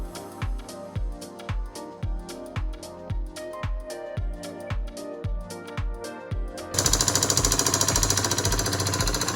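A bolt on the front clip of a 2011 GMC Sierra is loosened with a pneumatic impact tool, which hammers in loud, rapid bursts before running in one sustained, louder rattling stretch near the end; no voices.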